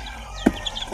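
A single short cluck from a gamefowl stag, a bloodline of derby-winning fighting cocks, rises sharply near the middle, followed by a few faint softer clucks against quiet background noise.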